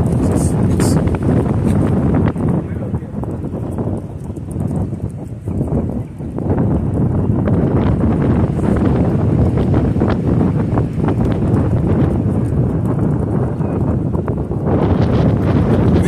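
Strong, constant wind buffeting a microphone outdoors at a camp in El Paso, a loud rumbling roar that persists throughout with brief dips in force.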